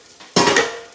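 A plate set down among dishes of Salvadoran pupusas and taquitos, one sharp ceramic clatter with a brief ringing decay, preceded by a faint softer knock.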